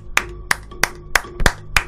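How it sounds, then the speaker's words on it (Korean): Six sharp hand claps ring out close and alone at an even, unhurried pace, each a crisp single slap. "이건 진짜 박수 한번 치고 가야겠다"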